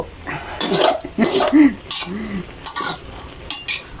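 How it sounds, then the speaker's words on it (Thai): Eggplant stir-fried in a pan, heard as brisk bursts of scraping and tossing with a light sizzle underneath, while a voice speaks intermittently in between. "จะผัดให้มะเขือสุกเพื่อเขือนิ่ม"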